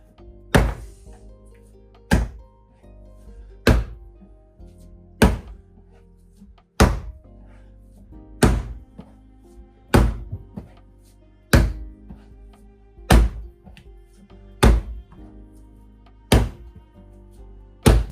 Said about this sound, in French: Hop, vous soulevez, vous tirez, là, claquez, vous prenez. Tirez, claquez, vous prenez.